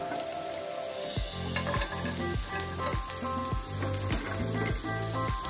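Browned onions and mixed vegetables fry in a hot pan with a steady, close sizzle, broken by a regular rhythm of stirring scrapes roughly every half second. No voices are heard.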